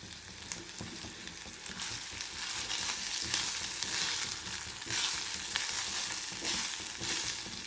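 Grated coconut frying in a pan with tamarind for a coriander coconut chutney, a continuous dense sizzle and crackle with stirring, steady and close, with no voices.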